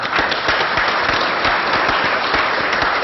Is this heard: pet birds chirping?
no